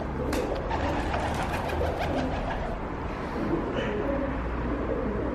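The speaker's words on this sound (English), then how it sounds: "it's just sort of become a pigeon roost in here" Pigeons coo softly inside a dilapidated, roofless kitchen tower of a ruined castle, low repeated calls over a steady background hiss, with a few higher chirps scattered through.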